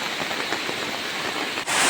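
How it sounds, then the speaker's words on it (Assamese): Heavy downpour over a flower garden flooding with knee-deep water, a dense steady hiss of falling rain with no voices, swelling into a louder rush at the very end. "কি ধাৰাসাৰ বৰষুণ পৰি আছে চাওক"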